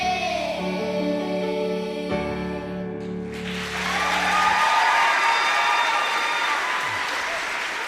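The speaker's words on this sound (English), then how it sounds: "Well-deserved, rousing applause there for class winners Cronky School, their boys' choir, for up to Year 6" Rousing applause from an audience for a school boys' choir winning their class at a music festival, building from the end of the song into sustained loud clapping with some cheering.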